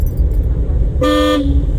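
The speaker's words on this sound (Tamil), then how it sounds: "இதுக்கு இடையில நம்ம ஹாரன் அடிச்சிருக்கோம்." A single car horn honks for about a third of a second during a driving lesson, against steady low road and engine rumble.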